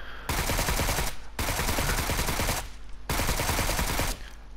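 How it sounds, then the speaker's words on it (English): Full-auto rifle fire in PUBG on PS4, three long sustained bursts of rapid shots with brief gaps between them, loud and dense with no talking. "Let's go to full auto."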